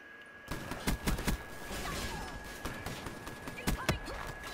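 Shotgun blasts from Call of Duty Black Ops 3 multiplayer, several sharp shots scattered through a busy, continuous game soundscape with fairly close, punchy reports at irregular intervals.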